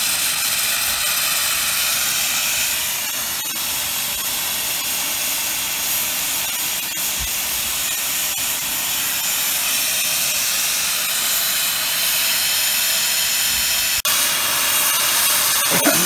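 A wood-fired rocket stove steam boiler roars with flame flaring out the open top, a steady loud broadband hiss and rush with no pauses and a few faint clicks.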